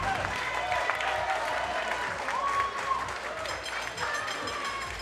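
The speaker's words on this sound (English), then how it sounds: "please give them a big round of applause" Audience applause at a Chinese pageant talent show, steady clapping from a crowd that fills the whole stretch with a few cheers mixed in.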